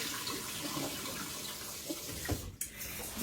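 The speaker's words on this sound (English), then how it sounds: "I'm going to rinse all this again really good to make sure I get all the vinegar off of it." Tap water runs steadily into a kitchen sink while strawberries are rinsed under it to wash off vinegar, a continuous close splashing hiss with a brief break near the end.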